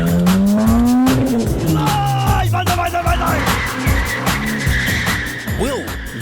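A Honda CRX and a Ford Falcon XR8 V8 race with screeching tire squeal and roaring, revving engines, loud and close and sustained, with a voice talking over them.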